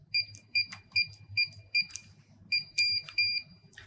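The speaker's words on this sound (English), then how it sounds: "My keypad should beep twice." Wireless gate opener keypad giving a series of short, sharp electronic beeps, about eight in total, spaced unevenly with soft button-press clicks between them over a low background hum.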